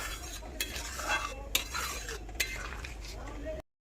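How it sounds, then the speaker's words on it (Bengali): A spoon stirring food around a kadai after cumin has gone in, with scraping and several sharp metal clinks over a soft background sizzle. "এবার ভালো করে নেড়ে নেব।"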